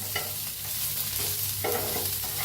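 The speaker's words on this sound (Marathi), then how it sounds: "तसं ओतूया तेल, हलवून घेऊया, तेल घालून भाजून घेऊया" Onion and grated coconut roasting in oil while being stirred, a steady close sizzle with scraping spoon strokes recurring through the short stretch, no voices.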